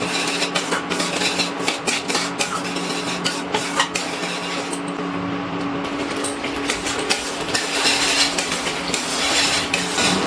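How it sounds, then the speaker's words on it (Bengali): A utensil stirs paneer korma masala in a pan with steady scraping and clinking, close and continuous over a bed of sizzling. "এবার আমি আবার একটু নাড়াচাড়া করে নিচ্ছি।"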